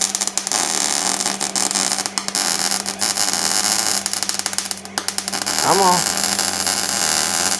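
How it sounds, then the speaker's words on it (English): Welding on the rusty steel of a 1967 Dodge Charger produces a steady electric buzz and crackling hiss, broken by short pauses and bursts, with a brief voice speaking briefly near the end. "Oh yeah, I like welding rust."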